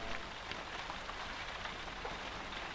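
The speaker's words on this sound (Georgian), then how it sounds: "გარეთ ისევ წვიმს და სული წვიმებს." Steady rain patters on a surface, a constant dense hiss of drops without pause, fairly close and even throughout.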